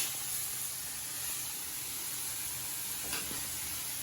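Steak haché burgers frying in a pan, a steady close sizzle and hiss throughout with a brief scrape or shift of the meat near the end.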